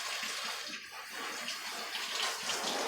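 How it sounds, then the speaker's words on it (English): Winter squash seeds rinsed under running tap water, a steady close hiss and splatter of flowing water with faint shifting splashes throughout. "giving them all a rinse"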